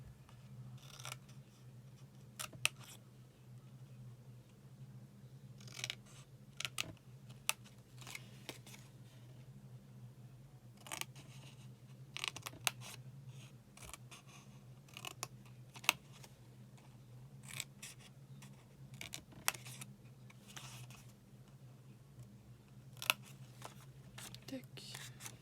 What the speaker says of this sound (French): sur les grands rectangles, on fait un trait, on coupe droit